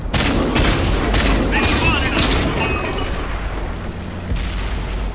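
Heavy gunfire and booming cannon shots in World of Tanks, a burst of sharp broadband blasts in quick succession over rumbling battle noise, loud and close, with a voice talking over it.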